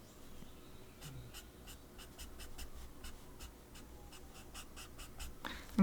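Quick repeated strokes of a chisel-tip marker on paper, drawing feather marks in a series of short rhythmic scratches, close and fairly quiet over light background hiss.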